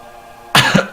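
Two sharp, close coughs break a quiet background, the first longer and rougher and the second a brief burst right after it.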